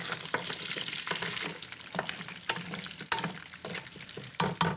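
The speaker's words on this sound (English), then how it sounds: "And stir this around." Vegetables, garlic and bones are stirred in a hot roasting pan for homemade stock, with a continuous sizzle and frequent scraping clatter of a utensil against the metal pan, close and with no talking.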